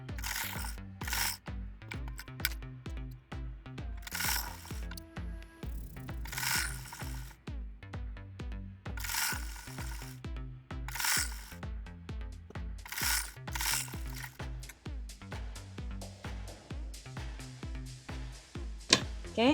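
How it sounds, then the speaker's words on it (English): Sewing machine stitching a tassel onto an Ankara fabric hem, running in repeated rhythmic bursts with mechanical clicking and whirring, stopping and starting throughout, close and steady. "I'm going to go ahead and sew this, and that's how you attach the tassel."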